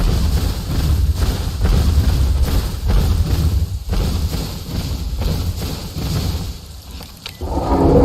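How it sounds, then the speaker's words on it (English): Rain falls steadily in the video game The Isle Legacy, a dense hiss broken by low thunder rumbles and thuds that swell and fade across the stretch, with no talk. "It's raining, so I can't sniff."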